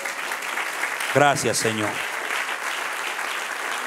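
Church congregation applauding throughout, a steady broadband clapping wash under a short spoken phrase from a man near the start, continuing evenly to the end.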